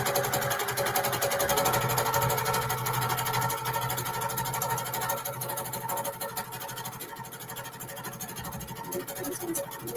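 A sewing machine runs steadily for the whole stretch, free-motion quilting swirl patterns with a quilting foot, its fast needle rhythm and motor hum close and continuous with no talking.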